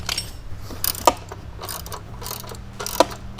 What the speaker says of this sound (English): And then you just spin this bolt out.